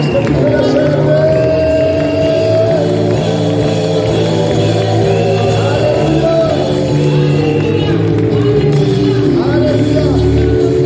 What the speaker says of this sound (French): est-ce que tu peux te lever et l'apprécier avec ton acclamation? Est-ce que tu peux ajouter les cris pour le célébrer?